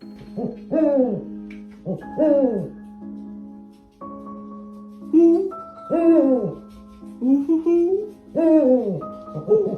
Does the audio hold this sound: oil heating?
no